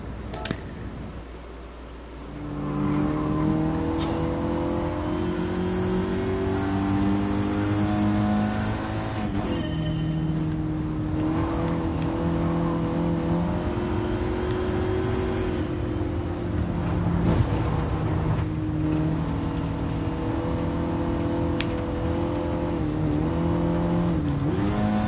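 Race cars in GT Sport rev and race, played on a Thrustmaster wheel, with a steady loud engine drone and shifting pitch that climbs and drops through gear changes across the whole stretch, starting after a short quieter lead-in.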